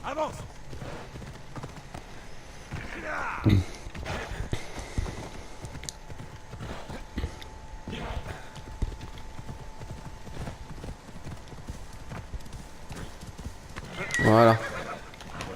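A horse in Assassin's Creed Odyssey clip-clops along at a walk with steady hoofbeats, letting out a sharp whinny near the start and a louder neigh near the end, while someone talks over it.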